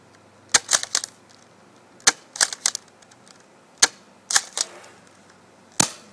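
An airsoft gun held upside down fires a handful of sharp, close snapping shots, some in quick pairs or triplets, with pauses in between and no talking.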